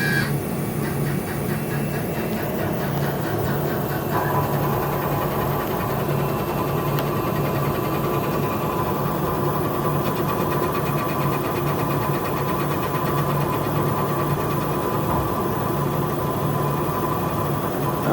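A laser cutter running steadily while engraving business cards, a continuous machine hum and vibration with a faint high tonal whine throughout and no pauses.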